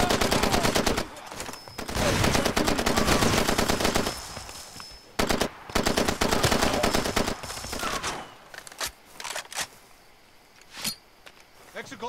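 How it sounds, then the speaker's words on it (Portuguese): Bursts of machine gun fire in Far Cry 2, loud rapid volleys separated by short pauses, then sparser single shots and quieter game ambience toward the end. "Vamos chegar de metralhadora mesmo."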